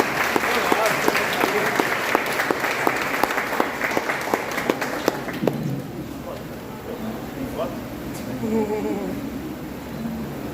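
A church congregation at a triduum Mass for Saint Matthew breaks into lively applause, dense crisp clapping for about five seconds before it fades, after which a voice speaks.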